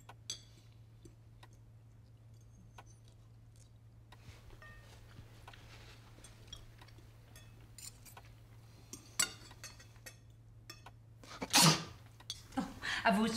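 One loud, abrupt sneeze near the end of a quiet stretch marked by faint clinks and a low steady hum.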